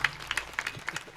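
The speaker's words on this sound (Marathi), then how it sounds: "टाळ्या वाजवा सगळ्यांनी" At a Varkari kirtan, a few people clap in scattered, uneven bursts that sound close and fairly light.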